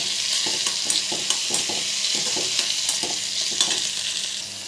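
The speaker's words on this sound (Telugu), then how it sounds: "ఇక్కడ టమోటాలు వేగుతుంటాయి ఫ్రెండ్స్" Tomatoes fry in oil left over from earlier frying, a bright steady sizzle close up with frequent light spoon taps and scrapes as they are turned.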